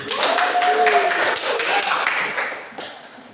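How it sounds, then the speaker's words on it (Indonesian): A classroom of students clapping hands together on cue from their teacher, a short burst of sharp, fairly close claps with a few distinct taps, a voice briefly audible over them. "Tepuk tangan dulu"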